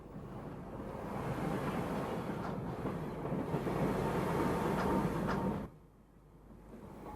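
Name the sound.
steam train picking up speed on rails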